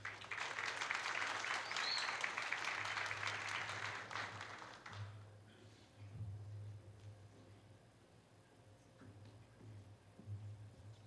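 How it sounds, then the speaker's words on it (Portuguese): Audience applause welcoming a priest-professor before his lecture on Christian hope in Mary; steady clapping for about five seconds, then it stops abruptly, leaving a quiet room with a low hum and faint ticks. "Salva de palmas."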